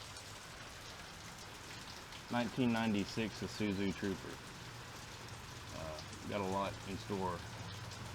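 Steady rain patters on surfaces outdoors beside a parked 1996 Isuzu Trooper, a constant close hiss that runs the whole time while someone talks over it.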